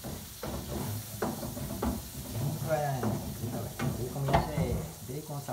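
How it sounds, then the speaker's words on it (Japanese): Garlic and bacon sizzle in a frying pan under steady crackling, with spatula scrapes and clacks against the pan and someone talking over the cooking. "そして、もうパチパチ言ってきたね。"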